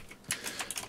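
A short burst of typing on a computer keyboard while coding quaternions: a few quick, close clicks in an uneven rhythm.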